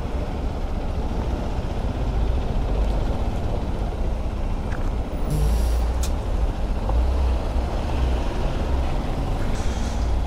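Heavy late-night traffic on the Mumbai-Goa highway, with trucks rumbling past in a continuous loud roar and a brief air-brake hiss partway through.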